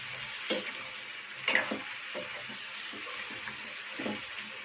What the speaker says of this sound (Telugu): బాగా కలిపేసుకొని కూరంతా ఈ మసాలా, కారం అన్నీ కలిసేలా బాగా కలిపెట్టుకుని